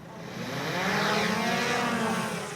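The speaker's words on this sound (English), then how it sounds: "The police helicopter and drones were scrambled." A police helicopter flying over a rural area during a night search, heard as a steady broadband rotor and engine roar that swells toward the middle and then fades slightly, with no talk.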